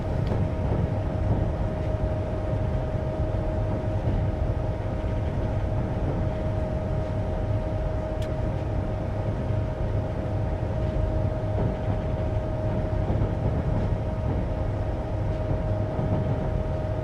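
A Class 390 Pendolino in Train Simulator 2015 brakes on its approach to Carlisle on the Preston to Carlisle route. A steady low rumble runs throughout under a constant faint hum, with no one talking.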